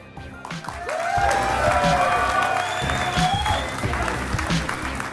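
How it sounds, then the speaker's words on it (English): An audience at a live Clash Royale tournament in Helsinki applauds and cheers, a sustained burst of clapping and whoops from a large crowd with an announcer's voice heard over it. "ladies and gentlemen, one more time, a round of applause"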